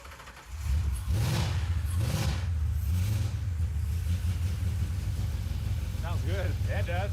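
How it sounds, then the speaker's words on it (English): A Ford F100 pickup fitted with a swapped Crown Victoria V8 cranks and fires up, settling into a loud, deep rumbling idle with a couple of throttle blips, while a voice is faintly heard near the end. "We are ready to fire this thing up"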